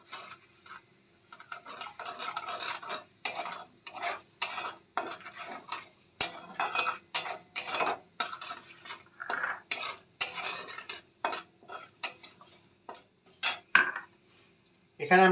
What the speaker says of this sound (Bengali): ফোড়নটা আমরা ভালো করে ভেজে নেব